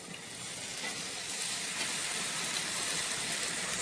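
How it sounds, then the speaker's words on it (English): Kale mix fries in melted butter in a pan for an omelette, giving a soft, even sizzling hiss that holds steady throughout without any talk. "my butter has melted, so I'm going to add in my kale mix"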